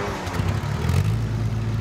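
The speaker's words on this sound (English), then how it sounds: "that takes me back, hearing that engine" An old car engine, freshly repaired, runs at a steady low rumbling idle close by for a short stretch, without talk.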